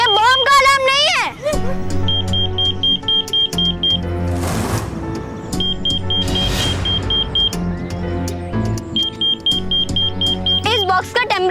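A temperature alarm on an overheating box gives short repeated high electronic beeps in evenly spaced bursts, mixed with dramatic music, whooshing effects and children talking.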